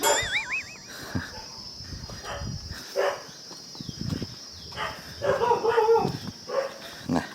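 A dog barks repeatedly in short sharp bursts at close to mid distance near an old pagoda on a hillside in Sukhothai, Thailand, over a constant high insect drone and some outdoor noise.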